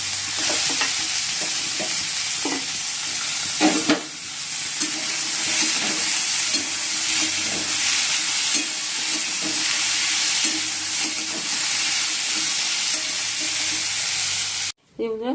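Potato curry of white potatoes frying and sizzling in a pan on a home stove, with steady crackle and repeated scraping stirs of a spatula throughout, fairly close.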